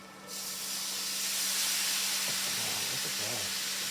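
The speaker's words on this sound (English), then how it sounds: "Can you hear it sizzling?" Chickpeas and ginger hit a hot pan and start sizzling at once, a bright steady hiss that swells and holds, with a faint low hum and brief voices murmuring underneath toward the end.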